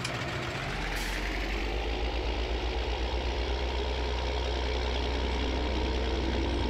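A Lamborghini tractor in Farming Simulator 19 sits at idle, a steady low diesel rumble that holds even and continuous close by after a brief bump at the start, with no talk over it.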